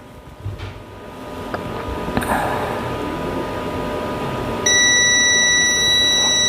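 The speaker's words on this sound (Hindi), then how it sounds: "देखिए यहाँ पे भी बीप आ रहा है" Multimeter continuity beep while testing a resistor: over a noisy, hissy background, a steady high-pitched electronic tone switches on partway through and holds to the end.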